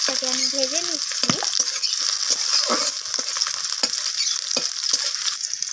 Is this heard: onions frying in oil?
yes